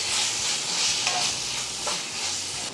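Garam masala and coriander powder being stirred in a hot frying pan, a steady close sizzle with scraping stirs throughout and no talk.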